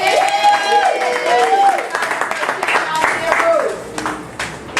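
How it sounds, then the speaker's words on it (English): A commencement-day audience at a martial arts dojo gives a round of applause, clapping mixed with crowd noise while a voice keeps talking over it. "Give them one more big round of applause."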